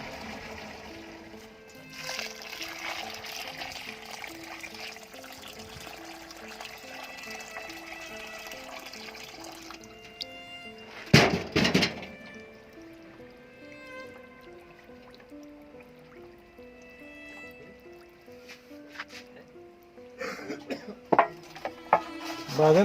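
Water poured into a tin or bucket of animal manure being prepared for composting, a steady trickling fill with drips and a sudden splashy surge partway through, close by and alone.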